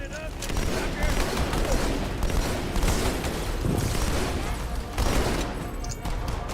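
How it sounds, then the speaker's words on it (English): Continuous machine gun fire in the video game Halo 2, loud and dense rapid bursts that run the whole time, with voices talking over them. "My man has a machine gun."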